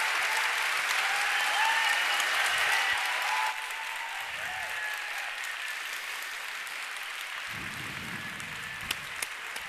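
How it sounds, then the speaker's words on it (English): Applause rolls through the audience at a 2015 women in tech panel, loud at first and then settling into a softer, sustained patter of many hands, with a few sharper claps close by near the end. "An applause, my friend."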